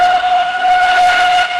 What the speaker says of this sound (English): Whistled Edward.